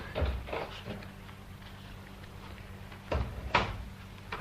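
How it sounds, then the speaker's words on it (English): A door opening in a quiet indoor room, with a soft handling thud early on and a sharper latch-like knock and creak near the end, heard on its own without talk. "Let me open the door."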